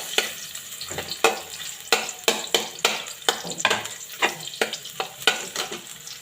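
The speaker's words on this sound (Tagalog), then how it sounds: "Ito, bawang or garlic. Ayan, nagigisa na tayo." Garlic sautéing in a pan for a Bicolano fish and sweet potato leaf dish, a steady sizzle broken by repeated sharp stirring scrapes in an uneven rhythm, close and clear with no talking.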